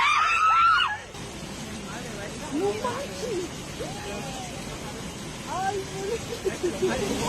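Panicked screams and shouts from onlookers as a young man is swept away by a sudden surge of floodwater. Wailing cries rise and fall over a steady rushing background, with overlapping voices throughout.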